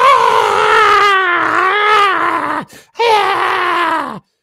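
The evil queen from the Snow White tale screams in rage, voiced by a performer: two long, loud wavering shrieks separated by a brief gasp, ending abruptly.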